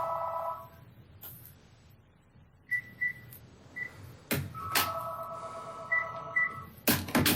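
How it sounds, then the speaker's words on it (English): A telephone rings in a quiet board meeting room, with short repeated bell-like trills and chirps spread over several seconds and a few sharp knocks and clatters in between, while the room stays otherwise hushed. "The phone rang right in the middle of that."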